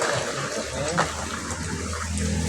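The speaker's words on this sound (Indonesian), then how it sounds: "usahakan dengan air mengalir ya, karena kotorannya biar ikut arus, ikut aliran air" Aquarium filter media, including coral pieces, is rinsed under running tap water, giving a close, continuous splashing wash with handling noises.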